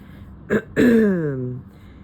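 A single throat clearing up close, a short rasp followed by a longer, drawn-out vocal grumble that fades.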